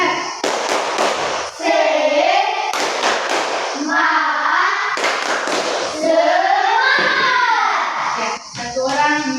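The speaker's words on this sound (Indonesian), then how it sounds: "Tepuk semangat." A group of Indonesian students in a classroom performs a rhythmic 'tepuk semangat' spirit clap, sharp patterned claps mixed with loud chanted voices in bursts, repeated several times with short pauses between.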